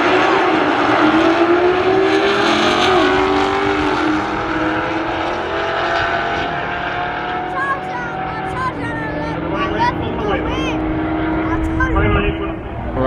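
A Lexus race car tears past in a street race, its loud engine roaring with shifting, rising and falling pitch over about thirteen seconds of continuous noise.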